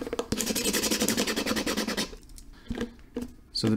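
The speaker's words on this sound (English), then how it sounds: "So I'm gonna try scratching this paint off." Paint is scratched off plastic in quick, rapid rasping strokes for about two seconds, then a few separate scrapes follow at close range, with no voices.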